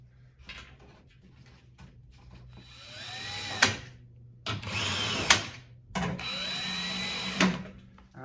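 A power tool drives bolts back in on a 2021-2025 Toyota Sienna Hybrid during inverter coolant service, with several short whirring bursts between quieter pauses and sharp clicks.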